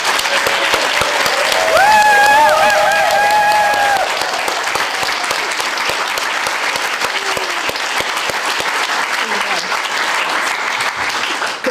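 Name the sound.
round of applause for Arthapriya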